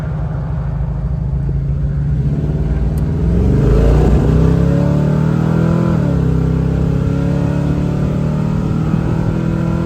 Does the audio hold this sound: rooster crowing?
no